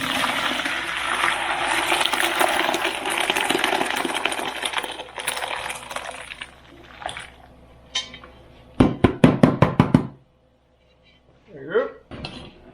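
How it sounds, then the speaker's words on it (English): A gallon of homemade vegetable broth poured out of an 8-quart Instant Pot, with a rushing liquid splash for several seconds followed by metallic clinks and clatter of the pot and utensils. "let's dump out this vegetable broth"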